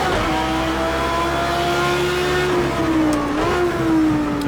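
GT3 race car engine in the Project CARS 2 racing game holds a steady, loud drone with a smooth pitch dip and rise near the end as the driver lifts and reapplies throttle, no voices over it.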